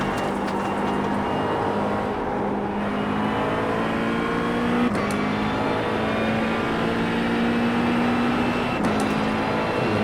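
A McLaren 720S GT3 race car in iRacing at full throttle around The Bend GT Circuit, a loud continuous engine drone with rising pitch and brief shifts, heard alone close up.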